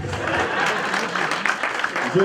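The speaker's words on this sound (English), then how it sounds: "Clap hands for me" Applause from an audience at a winter school talk, loud and continuous clapping, with voices mixed in underneath.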